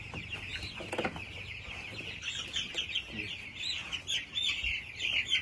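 Young chicks around fifteen days old chirp in a steady, continuous high twittering chorus close by, with a few brief louder clucks and rustles mixed in; no one speaks.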